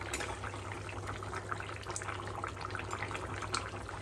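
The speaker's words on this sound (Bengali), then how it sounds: "ধনে পাতা কুচি দেওয়ার পরে এটাকেও একটু ভালো করে ফুটতে দেব" A pot of Bengali fish curry with bottle gourd and chopped coriander leaves bubbles at a steady simmer, a continuous close, watery burbling without voices.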